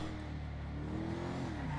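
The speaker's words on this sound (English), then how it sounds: "I love the way this car sounds." Windsor car engine in GTA Online, a quiet steady hum with a slowly rising engine note, heard alone without talking.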